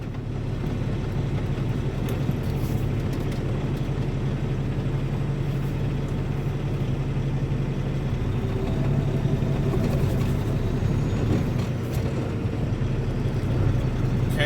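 Engines idle and rumble steadily around a truck stop, a dense low drone of big diesel trucks with passing vehicle noise layered in, continuous and fairly loud without speech.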